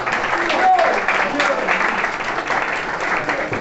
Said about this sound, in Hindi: तो उस्तादा के लिए दोबारा तालियां।